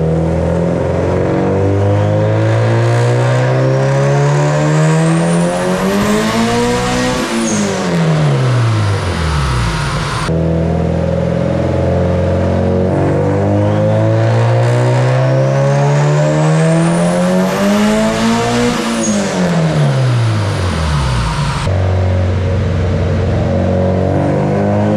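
A turbocharged Honda D16Y8 engine in an EK coupe revs hard on a dyno, climbing steadily before dropping off, twice in succession, loud and continuous with no talking.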